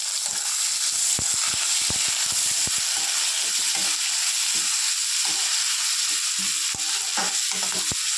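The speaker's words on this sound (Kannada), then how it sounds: "ಇವಾಗ ಆನಿಯನ್ ಬೆಂದಿದೆ, ಅದಕ್ಕೆ ಟೊಮ್ಯಾಟೊ ಹಾಕೊಳ್ಳಿ. ಟೊಮ್ಯಾಟೊ ಹಾಗೆ ಕ್ಯಾಪ್ಸಿಕಮ್ ಹಾಕೊಳ್ಳಿ." Onions frying in a pan give off a steady hiss as tomato and capsicum are added, with sharp intermittent clicks and scrapes of a spatula stirring through the sizzle.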